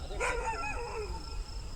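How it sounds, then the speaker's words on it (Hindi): A dog barks far off near a road, its faint, drawn-out yelping calls rising and falling over a low background hum. "दूर से भौंक रहा है"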